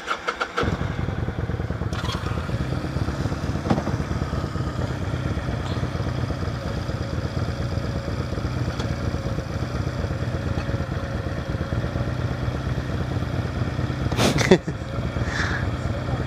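A motorcycle engine idles steadily and loudly up close, a continuous low throb that runs throughout with a few faint clicks and knocks over it, while the rider struggles to find neutral.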